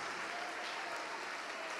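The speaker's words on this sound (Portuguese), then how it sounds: "Vamos aplaudir mais ao nome de Jesus" A church congregation bursts into dense, continuous applause during a service, a loud, even wash of many hands clapping throughout.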